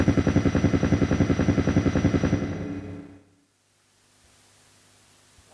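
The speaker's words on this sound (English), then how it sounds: "125 is helicopter" Helicopter preset from a MIDIPLUS MiniEngine USB MIDI sound generator: a loud, rapid, pulsing rotor-like chop that fades out after about three seconds into near silence.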